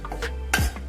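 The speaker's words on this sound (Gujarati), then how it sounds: "થોડી વાર સુધી આમ હું હલાવીશ" A spoon scrapes and stirs tadka through pav bhaji khichdi in a pan, giving a few brief close scraping strokes with one louder swipe.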